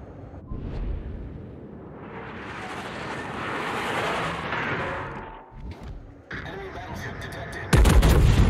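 Naval artillery in the World of Warships game, aboard the battleship Ohio, booms in heavy, rumbling salvos that swell and fade, with a sharp loud burst near the end; voices are heard faintly in the mix.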